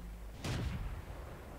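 Single booming tank cannon shot from an M4A2E4 medium tank in World of Tanks, a sharp blast with a short rumbling decay, alone.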